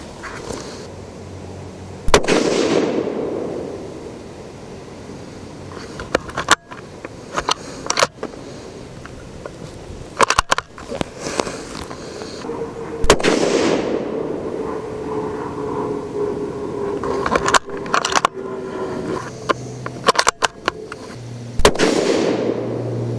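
Ruger American Predator Gen 2 rifle in .223 firing Nosler 55 grain rounds outdoors, several sharp loud cracks spaced seconds apart, each followed by a rolling echo, with quieter nearby gunfire between them.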